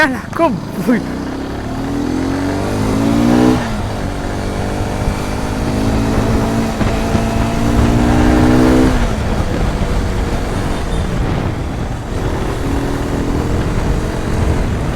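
A Hero XPulse 210 motorcycle being ridden, its engine note rising through the gears with clear pitch sweeps and shifts. The engine stays close and loud throughout, and a rider talks over it.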